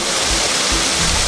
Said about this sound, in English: Tucked in these green and serene tea plantations is the Tigoni waterfalls.